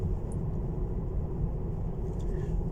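Interior of a quiet electric car on the move: a soft, even low road rumble and tyre noise throughout, steady and unobtrusive, with no engine note and no talking.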